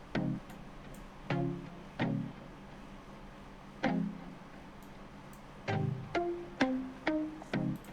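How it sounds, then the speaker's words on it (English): Rap beat built on a sampled song, with a plucky synth over the chords shaped by EQ, stereo widening and reverb; sparse struck hits and short plucked notes ring out at moderate volume with no voices. "Just a little bit of a plucky stuff on top of the chord"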